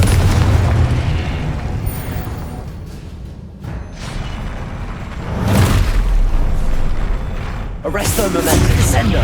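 Deep booming blasts and crackling bursts from the Confringo fire spell in the Hogwarts Legacy video game, loud and repeated over a rumbling game soundtrack, with a voice speaking among the explosions.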